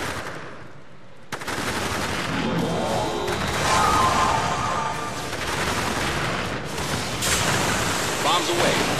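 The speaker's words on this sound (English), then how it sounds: "Engaging target. Firing as ordered." Units in the war strategy game Battle Battalions open fire: sustained bursts of machine-gun fire and booming shots that roll on continuously over a dense noisy battlefield bed, loud and close, with a sharp onset.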